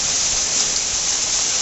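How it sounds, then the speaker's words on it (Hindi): Heavy rain with hail falling in the hills, a dense loud hiss of pelting water and ice, steady and close throughout. "देखो जरा भाई क्या हो गया, ओले ही ओले भाई।"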